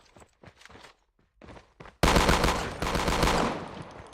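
Rapid automatic gunfire from a Call of Duty Mobile weapon, preceded by short clicks and footsteps, then a dense, loud sustained burst of shots up close.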